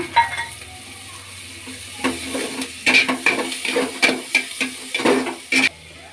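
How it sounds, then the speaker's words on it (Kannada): Onions and curry leaves frying in oil in a pan for a field bean palya, with a soft sizzle beneath irregular clinks and scrapes of a spoon stirring against the pan at close range. "ಈಗ ಈರುಳ್ಳಿ ಹಾಕೊಳ್ಳೋಣ ಎಣ್ಣೆ ಎಣ್ಣೆಲಿ ಫ್ರೈ ಆಗಲಿ"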